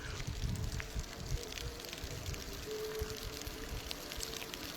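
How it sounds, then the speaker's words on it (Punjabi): Steady rain falls outdoors near the Sutlej river, a continuous broadband wash of patter with a few sharper drips, fairly faint and even throughout, with no voices. "ਇਸ ਟਾਈਮ ਤਕਰੀਬਨ 2 ਘੰਟੇ ਹੋ ਗਏ بارش ਪੈ ਰਹੀ ਹੈ"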